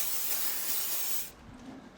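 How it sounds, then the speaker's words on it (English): Avocado oil cooking spray hisses from a can onto steaks in a short, steady burst that cuts off abruptly, followed by quiet low background sound. "And then I'm going to spray the tops of those with the avocado"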